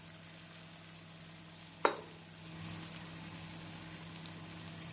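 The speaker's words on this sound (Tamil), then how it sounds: "இந்த அளவு தக்காளி நன்றாக வதங்கி வரவும் கத்திரிக்காயை சேர்த்து விடலாம்" Gentle sizzling of tomatoes and brinjal frying in a pan, a soft steady crackle, with one sharp clack of a utensil partway through.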